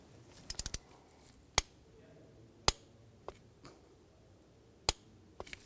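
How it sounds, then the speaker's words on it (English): Sparse, sharp metallic clicks and ticks of a torque wrench tightening a spark plug on a 2006-2010 BMW 550i 4.8L V8, a quick cluster of clicks then single clicks spaced apart, close and quiet. "Now we're going to torque the plug to 20 foot-pounds."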